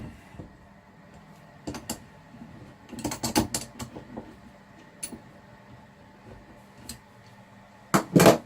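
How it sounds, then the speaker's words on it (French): Unscrewing the main nut on the cap of a Jabsco marine toilet, giving scattered clicks, ratcheting taps and small plastic creaks at close range, with a cluster of quick knocks midway and a louder clatter at the end. "Je commence par dévisser l'écrou principal du capuchon."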